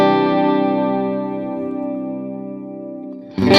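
A guitar runs through a delay effect on a Line 6 Pod Go: a sustained chord rings out with repeating echoes that slowly fade, then a fresh strummed attack cuts in at the end.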